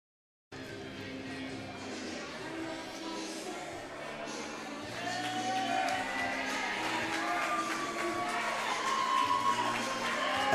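Crowd cheering and shouting for a catch wrestler's entrance at a pro wrestling event, a steady roar under music that swells louder partway through.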